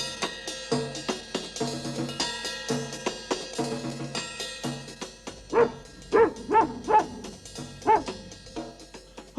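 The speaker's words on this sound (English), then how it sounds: "Mungo barked louder." A cartoon dog from a 1969 children's animated series barks in a steady run of short, close, loud yaps, the later barks coming in a sharper, rapid cluster.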